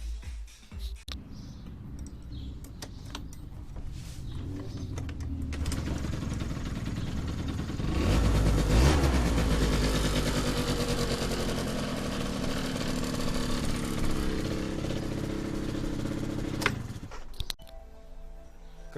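After some faint ticking and handling noises, a repaired Yamaha Aprio scooter engine starts up and runs at a steady idle for several seconds, then cuts off near the end.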